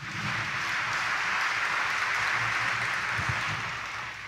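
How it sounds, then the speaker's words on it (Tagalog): Church congregation at a Sunday Easter Mass in Quiapo Church applauding, a steady, broad wash of clapping from many hands in a large interior, sustained throughout and easing slightly at the end. "Ibigay natin ngayon ang pinakamalakas na palakpak sa ating Panginoong Hesus na muling nabuhay"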